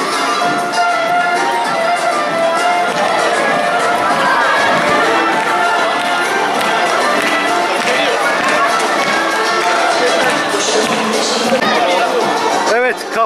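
Kaf team fans cheering and chanting at a university volleyball championship final, a loud, dense, sustained crowd roar filling the whole stretch with constant chatter and shouting mixed in.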